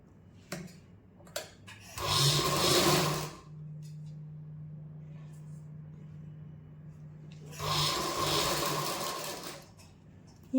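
A sewing machine stitches crosswise tucks into a blouse in two loud bursts of rapid whirring, separated by a pause in which a steady low motor hum continues.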